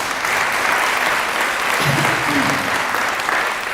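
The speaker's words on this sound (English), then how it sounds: "So one more round of applause." Sustained applause from a crowd at a State of the City address, a dense steady clatter of clapping filling the space at a fairly loud level throughout.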